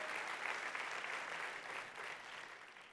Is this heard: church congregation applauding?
yes